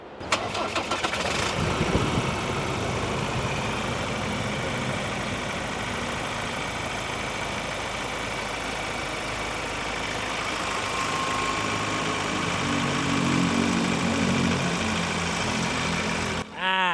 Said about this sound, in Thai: เดี๋ยวไปฟังเสียงเครื่องกัน